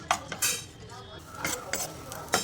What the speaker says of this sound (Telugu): ఇప్పుడు ఇందులోకి కట్ చేసి పెట్టుకున్న కాజు బాదాన్ని వేసి ఫ్రై చేసుకుందాం.